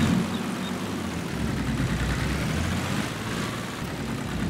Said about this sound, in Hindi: प्रॉपर जीप वाला इंजन है इसका, और डीजल इंजन है ये, आवाज़ से ही पता चल रहा है